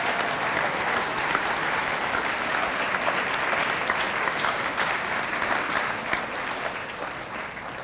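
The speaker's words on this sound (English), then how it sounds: "If we can give him a round of applause, please." Sustained applause from a school audience at a US Air Force convocation, a dense steady wash of many hands clapping at even loudness for the whole stretch, slowly tapering near the end.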